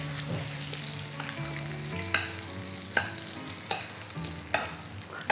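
Continuous sizzling from a pan of foaming butter while making Jägerschnitzel, with soft scraping and clinks of a utensil stirring now and then; no talking.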